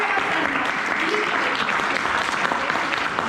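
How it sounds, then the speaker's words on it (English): A meeting audience claps steadily to welcome a speaker onto the stage, a dense, even round of applause sustained throughout at moderate loudness, with no talk over it. "Help me welcome on stage our seasoned professional speaker with a big round of applause"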